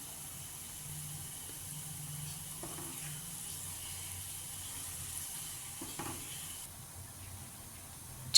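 Spiced buttermilk with salt, turmeric, red chili powder and coriander-cumin powder simmering in a pan for Kathiyawadi dhokli, a faint steady bubbling hiss with a few soft clinks, no talking.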